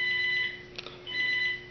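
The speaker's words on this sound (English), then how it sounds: "Oh, the phone's ringing." A phone rings with an electronic trilling tone in two bursts separated by a short gap, steady and moderately loud over a faint background hum, no voices.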